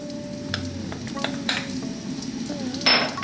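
Onion and garlic sizzle in sunflower oil in a pan for a vegan turmeric vegetable stew. A steady close hiss runs under brief spoon scrapes and knocks, and a louder burst comes near the end.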